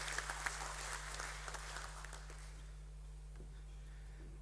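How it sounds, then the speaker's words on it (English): Faint applause from an audience at a corporate listing ceremony, welcoming the chairman, sits under a steady low hum and fades over a few seconds. "Can we have a thunderous round of applause?"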